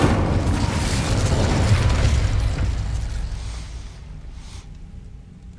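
Incendio fire spell cast in Hogwarts Legacy, a loud whooshing roar of flame with a booming burst that fades steadily over several seconds, followed by a short muted thump near the end, with no speech.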